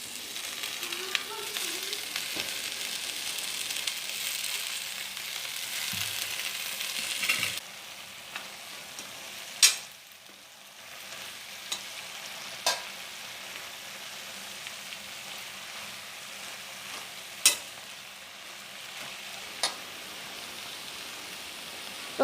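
Moringa leaves cooking in boiling water in a pot for murungai keerai poriyal, with a continuous hissing, bubbling wash broken by a few sharp spoon knocks and a brief pause midway.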